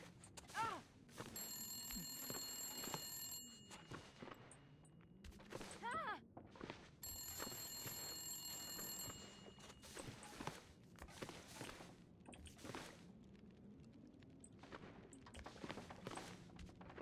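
Telephone ringing inside The Long Dark video game, two bursts of steady electronic bell tones separated by a pause, heard alongside footsteps and background game sounds with some speech.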